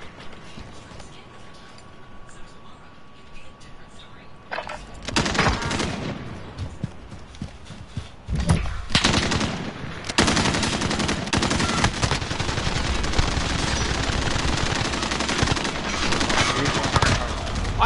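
Gunfire in Call of Duty multiplayer, starting quiet and then breaking into loud, sustained automatic bursts with brief pauses between volleys, dense and close for most of the stretch.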